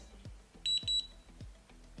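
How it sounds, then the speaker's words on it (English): A wireless automated curling iron gives a high electronic beeping, two short bursts close together, with faint low thumps and background noise around them. "It's gonna beep the entire time?"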